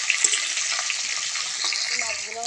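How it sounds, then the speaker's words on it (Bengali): Fish frying in a pan, flipped to the other side, giving a dense, steady oil sizzle close by, with small clatters and a faint voice near the end. "উল্টে দিয়ে এই পিঠটাও ভালো করে ভেজে নেব।"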